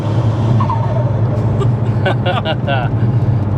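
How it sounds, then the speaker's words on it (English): A remapped, forged-engine Vauxhall Astra VXR roars at high revs, loud and close, with a sustained strained whine and people talking over it. "it's weird hearing it rev that high"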